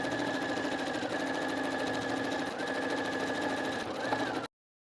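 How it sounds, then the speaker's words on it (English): A sewing machine stitches a drawstring waistband with a steady, close, whirring mechanical hum and brief pauses in pace, then stops abruptly before the end. "I stitched this drawstring and I used my safety pin to pass it through"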